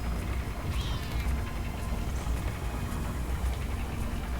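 A cat meows in the video game Wild Arms Alter Code F, one short rising cry near the start set against steady in-game background noise and music.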